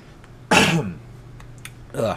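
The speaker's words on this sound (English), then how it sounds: "I'll try and mute the coughing where best" A throaty cough or throat-clearing bursts out close to the mic, followed by a quieter pause and a second rough burst.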